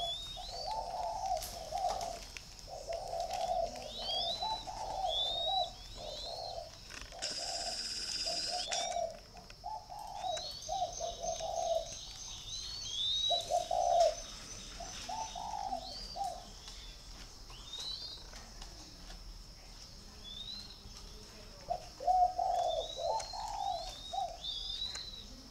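Spotted doves cooing, repeated soft rhythmic coos in short phrases, close and clear, with high chirps from other birds scattered over the top and a brief burst of noise partway through.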